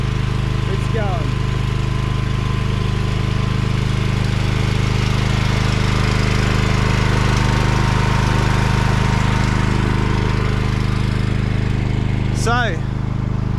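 A repaired backup generator engine for a solar setup runs steadily and loudly up close, a constant droning hum with strong low harmonics that holds for the whole stretch.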